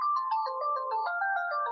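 A phone ringtone plays a bright electronic melody of quick, stepped notes, close and clear with nothing else underneath.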